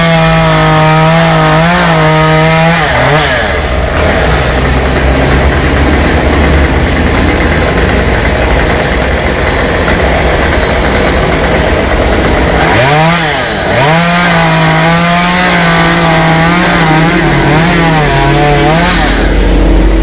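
A loud chainsaw roars and revs close by, cutting a foxtail palm tree, its pitch rising and dropping as it bites into the trunk, with a steadier grinding stretch in the middle.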